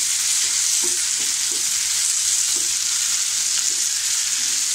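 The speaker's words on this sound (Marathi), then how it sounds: "आता आपण याच्यामध्ये टोमॅटो टाकूया. हे सुद्धा आपल्याला अगदी मऊसर असे परतून घ्यायचे आहेत." Tomatoes sautéing in a pan for hotel-style paneer masala give a steady, broad sizzle, with soft intermittent scrapes and stirs of a spoon, close and continuous with no talking.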